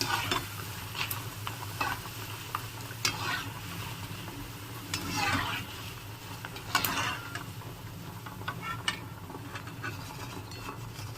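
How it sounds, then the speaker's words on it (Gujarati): Potato wafers and sago chakri deep-frying in oil for an Ekadashi fast breakfast, a steady close sizzle and crackle with intermittent scraping and stirring clatter from a utensil, no talking. "આ વેફર અને સાબુદાણાની ચકરી તળી રહી છું"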